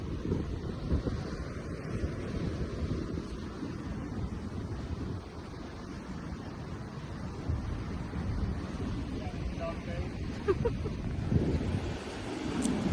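Surf rolls onto Wollongong Beach in a constant washing roar while wind buffets the microphone, a dense, unbroken wall of sound with faint voices now and then.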